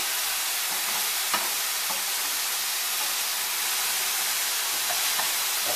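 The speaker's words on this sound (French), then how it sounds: "La poêle, elle est bien chaude. Voilà, ça rend un peu de graisse." Natural lardons sizzle and render their fat in a hot frying pan with no added fat, a steady bright crackling hiss with occasional small pops, close and continuous.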